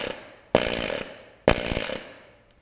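A compressed-air needle scaler at six bar strips paint from the metal of an IHC tractor, firing in two loud, close rattling bursts of about a second each, with a brief gap between them.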